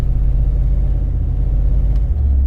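An older Chrysler New Yorker's engine, started after sitting a couple of weeks, runs with a loud, steady low rumble close by, its tone shifting briefly near the end.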